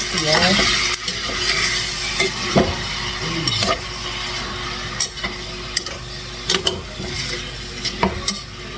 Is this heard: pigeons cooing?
no